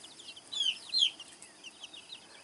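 Faint chirps and clucks from baby chicks and chickens near their coop rise over a quiet background, a few brief high peeps clustered together.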